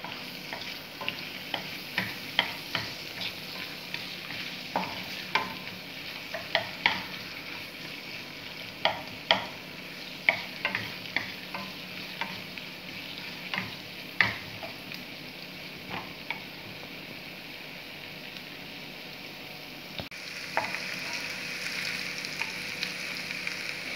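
A pan for egg roast masala sizzles steadily while a utensil stirs and scrapes, giving frequent sharp taps over a continuous frying hiss. No voices are heard.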